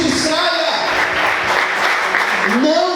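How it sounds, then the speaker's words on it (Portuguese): A church congregation claps steadily and loudly through the whole moment of worship, with a preacher's voice rising over the applause at the start and end. "Aplauda ao Senhor mais forte, aleluia."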